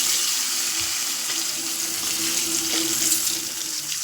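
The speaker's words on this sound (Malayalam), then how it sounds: "ഇനി നമുക്ക് സവാള വറുത്തെടുത്ത ചീനച്ചട്ടിയിൽ ആ എണ്ണയിൽ തന്നെ ഈ മുട്ടയെ ഒന്ന് ജസ്റ്റ് ഒന്ന് ഫ്രൈ ചെയ്തെടുക്കാവേ" Boiled eggs fry in oil in a pan after onions, giving a steady bright sizzle with small crackles and a faint stir, close and continuous with no talking.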